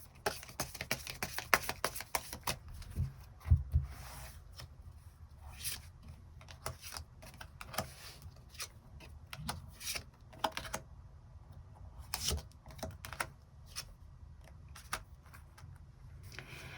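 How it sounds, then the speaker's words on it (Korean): Tarot cards are shuffled and drawn by hand, giving soft, close papery rustles and quick flicks with a few sharper snaps, fairly faint and irregular throughout, with no talking. "관계에 대한 조언 카드 몇 장 더 뽑아보도록 하겠습니다"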